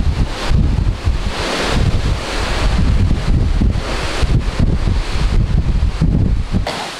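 Strong wind buffets the microphone in a steady roar over the rushing wash of sea waves churning below a cruise ship on the Mediterranean, loud and continuous with no voices.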